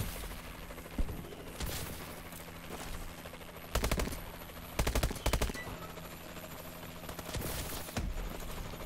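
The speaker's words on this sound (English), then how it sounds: "Somebody's shooting at me" Gunfire in Call of Duty: Advanced Warfare comes as repeated short automatic bursts and scattered single shots, loud and close, with brief pauses between the volleys.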